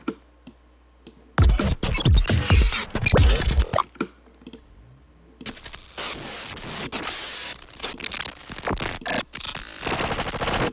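A sequenced digital glitch sound, a dense stream of stuttering, crackling, gurgling electronic bursts, plays loud and alone, with a quieter stretch in between and continuous choppy textures afterward.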